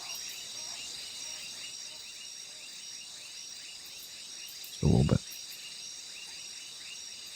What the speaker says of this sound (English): Those are some loud crickets.